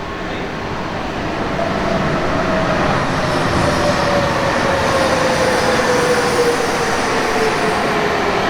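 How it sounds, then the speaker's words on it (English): Gatwick Airport Shuttle Transit, a Bombardier Innovia APM people mover linking the North and South Terminals, heard as a loud continuous rolling rumble with a gently falling motor whine throughout. "Then I went to Gatwick Airport and found this, the Gatwick Airport Shuttle Transit."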